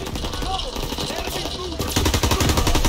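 Automatic and rifle gunfire from the World War II shooter Call of Duty WWII, with battlefield noise under a speaking voice at first, then dense, rapid machine-gun bursts growing louder over the final second.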